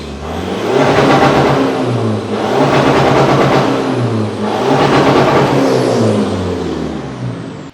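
An RC Colorado engine roars on a dyno, revving hard in three long pulls that each climb to the hard cut limiter and stutter against it, loud and close with a gritty exhaust rasp.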